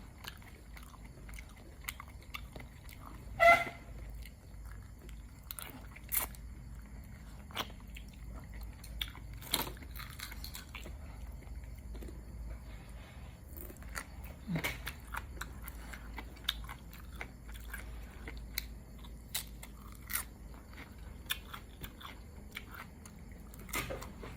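Crispy fried squid bitten and chewed close to the mic, with a sharp crunch near the start followed by scattered soft crunches and chewing in a quiet room.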